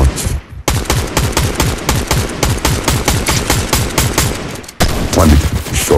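Loud automatic gunfire in Fortnite, long rapid bursts of shots in a fast even rhythm with a brief pause before and another near the end, close and dominant.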